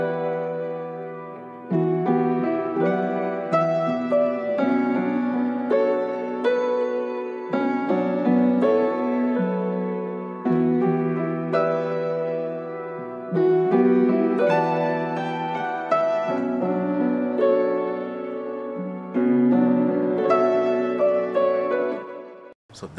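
A sampled musical loop of about eight bars serves as a beat intro, with melodic tonal phrases repeating in a steady pattern at moderate level and no voices.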